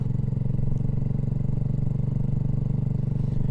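A BSA Goldstar motorcycle rides steadily past a stately period building, its engine holding a loud, continuous low thumping drone close by, with an even rhythm and no talk.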